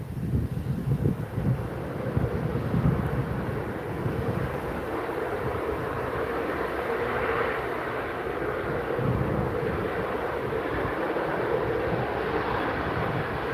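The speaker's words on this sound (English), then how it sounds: "We can get Emirates landing and potentially Ethiopian departing as well." An Emirates airliner lands at Manchester Airport, heard as a steady, distant broadband roar mixed with gusty wind buffeting the microphone throughout, with no voices.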